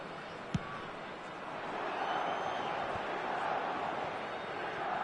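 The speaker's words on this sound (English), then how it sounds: "Certainly gave this crowd something to really cheer about." Stadium crowd noise from the eFootball 2024 football game: a steady broad roar of cheering that swells slightly partway through and holds, with a sharp thump near the start.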